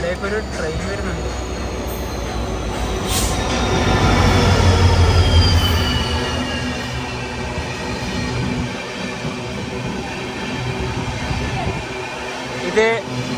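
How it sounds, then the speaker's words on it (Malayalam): The diverted Velankanni–Vasco da Gama train arrives at Kasaragod station, where renovation work is under way. Its rumble swells to a peak midway, with drawn-out wheel squeals over the rolling noise and voices nearby. "ഇവിടേക്കൊരു ട്രെയിൻ വരുന്നുണ്ട്."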